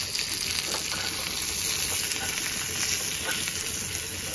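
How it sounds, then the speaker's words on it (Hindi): Carrots are stirred with a spoon into a sizzling masala for chole, giving a dense, constant frying hiss with faint scraping strokes. The sound is close, steady and even throughout, with no talking. "और हम इसमें ऐड कर देंगे गाजर, स्पून से इसे अच्छे से चला लें"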